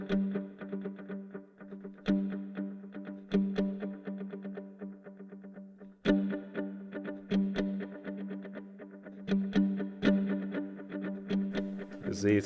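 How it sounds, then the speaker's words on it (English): A mandolin played on open strings runs through a looper with delay and reverb, repeating plucked phrases layering and echoing in a steady rhythm, close and clear with no talking. "There's a looper, so I can set up a little delay, kind of."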